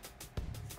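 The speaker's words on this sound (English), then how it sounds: "Dougie, be quiet. Sorry, my dog." A dog yips and barks a few times in a room during a drone LED modification, short sharp bursts near the microphone.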